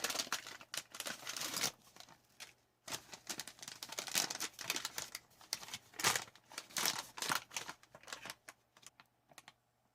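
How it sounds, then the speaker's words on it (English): Close, crinkly plastic rustling and crackling in bursts, with pauses between, as an MRE food pouch is folded and pressed flat. "I'm actually just going to fold the bag over and crease it real good"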